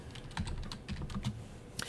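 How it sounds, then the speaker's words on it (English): Commands are typed on a computer keyboard during a network configuration lab, a quick irregular patter of soft key taps, close and moderately quiet, with no voices. "all of this command that I'm typing here"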